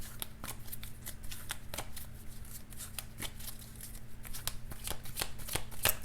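Guardian Angels oracle card deck shuffled by hand, a steady stream of crisp card riffles and slaps, close and continuous, over a low background hum.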